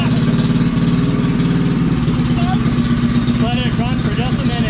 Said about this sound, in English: Let it run for just a minute.